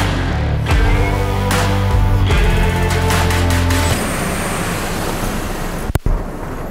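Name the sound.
diesel engine running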